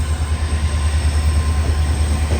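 Siddheshwar Express passenger train arriving at Solapur railway station, a loud, steady low rumble of rolling wheels and carriages with a faint rhythmic clatter.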